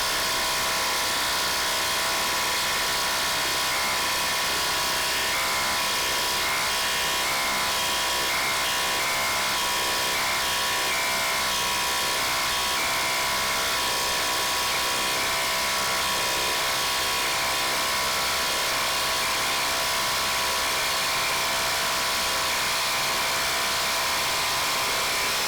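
RIDGID Octane impact gun driving 1/2 inch, 5-inch long lag screws, a steady loud whirring and hammering drone that runs unbroken for the whole stretch with no talking.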